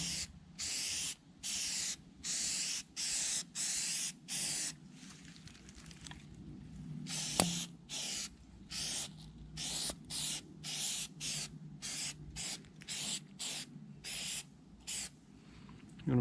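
Repeated short hissing bursts of an aerosol can spraying oil onto a K&N cotton air filter during re-oiling, roughly one burst per second with brief gaps, close and fairly loud, no talking.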